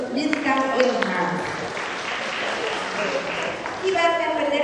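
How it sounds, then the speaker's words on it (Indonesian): A crowd of children and officials applauds at a government reception for young doctor representatives in Jakarta, the clapping steady beneath voices speaking over it. "tepuk tangan dulu untuk Bintang Ilham"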